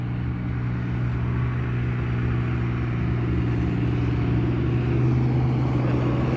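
Road traffic passing at sunrise, including diesel vehicles, a continuous engine rumble and tyre roar from nearby vehicles with no pauses.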